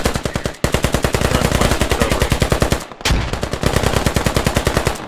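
Sustained automatic gunfire rattles in a military video game operation, with rapid bursts firing almost nonstop and one brief pause midway.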